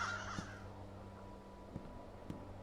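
A crow caws once in the horror video game The Beast Inside as a sudden jump scare, a short harsh call at the start over a low droning ambient hum. A few faint clicks follow in an otherwise quiet scene.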